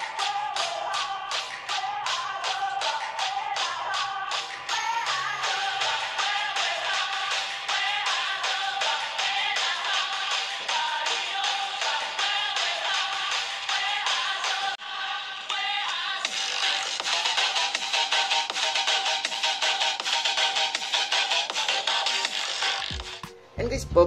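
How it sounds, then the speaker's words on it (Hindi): Dense, bright music plays continuously through a Poco F1 phone's small speaker, with a slight change in texture midway and an abrupt cutoff at the end. "स्पीकर का सैंपल मैं आपको सुना देता हूं"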